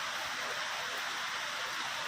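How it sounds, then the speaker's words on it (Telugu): Heavy, sudden downpour in the town of Payakaraopeta after a spell of blazing sunshine, heard as a steady, dense broadband hiss of rain with no voices. "సడన్గా వాతావరణం మరి ఎంత పెద్దటి వర్షం పడుతుందో చూడండి."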